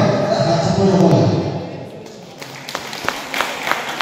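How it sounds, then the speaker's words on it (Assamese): Crowd at an all-Assam Dihanam singing competition applauds the winners, a full burst of clapping that fades after two seconds into scattered, separate claps. "যিসকলে আজি বিজেতা হৈছে চ' তেখেতসকলৰ সকলোৰে কাৰণে এটা হাত চাপৰি হ'ব লাগে"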